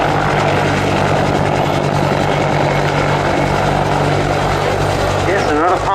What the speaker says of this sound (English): And another lovely engine note, Andy, that of the Bristol Siddeley Gnome